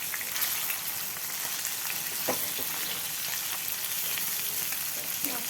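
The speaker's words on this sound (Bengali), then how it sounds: "মাছটা লাল লাল করে ভাজা হয়ে গেছে, এবার আমি তুলে নেব মাছটা।" A continuous, even sizzle of frying in hot oil, with occasional soft crackles and no voices.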